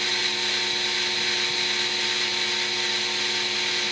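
A power drill bores a hole during customization work on a 1997 Corvette, producing a steady, continuous high-pitched whine that holds at an even level throughout, with no talking.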